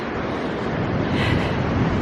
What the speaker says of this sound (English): the waves are beginning to break in line